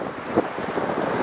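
Strong wind gusts at sea while paddleboarding off Thailand, a steady loud roar buffeting the microphone, with wave wash mixed underneath and no voices.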